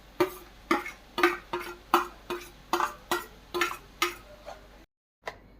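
A spoon knocks steadily against a bowl while crushed green chilli, curry leaves and onion are mixed, about a dozen evenly spaced clinks close up, then a brief silence and one last tap.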